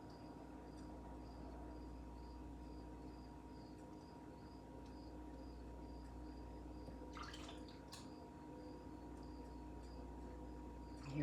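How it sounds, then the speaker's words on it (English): Crickets chirp outside in a faint, steady, continuous pulse over a quiet low background hum, with a few brief clicks partway through and no talking. "Hear all the crickets out there chirping."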